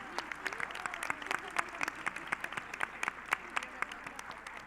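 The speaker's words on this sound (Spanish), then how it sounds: "el maestro René Bejarano, para quien pido un fuerte aplauso." Audience applause at a weekly political assembly in Mexico, a crowd clapping steadily and fairly close, with a thin, sharp patter of many hands throughout and no voices standing out.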